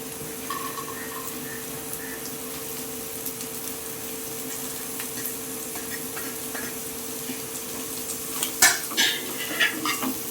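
Chopped vegetables and softened onions stir-frying in a pan for homemade wheat noodles, a low steady sizzle with occasional spoon scrapes that grow louder and clatter toward the end.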